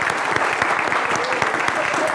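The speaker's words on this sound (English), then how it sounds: "let's give them a special round of applause" Sustained applause from a standing audience honoring a board of trustees, dense steady clapping filling the whole stretch with a few faint voices mixed in.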